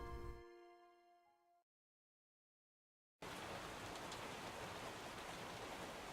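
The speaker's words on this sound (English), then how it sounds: "I opened my eyes to the rain pitter-pattering on the window" Steady rain pattering on a window, a dense even hiss of drops that starts abruptly after a brief tonal fade and a moment of silence, then holds at a constant level.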